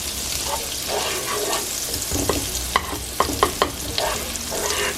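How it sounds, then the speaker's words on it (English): Butter sizzles in a pan for steak gravy, a steady soft frying hiss with a few sharp clinks and scrapes of a utensil near the end, fairly quiet and without speech. "Okay, I put in 2 tablespoons of butter."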